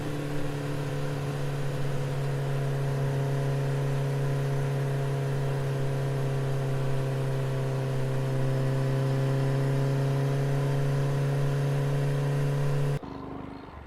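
A motorbike engine idles and runs steadily on a rural village road, holding a constant hum before cutting off abruptly near the end.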